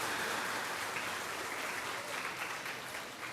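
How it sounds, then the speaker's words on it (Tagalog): Soft, steady applause from an audience at a family conference kick-off night, a continuous patter of clapping that stays fairly even and slightly fades toward the end. "Mahinang palakpak."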